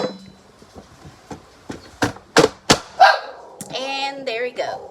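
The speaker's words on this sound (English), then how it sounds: "my dog may start barking, so I may have to cut the audio because he hates this thing" A pet dog barks indoors, with several sharp, close barks in a quick burst followed by whining yips, while a person talks nearby.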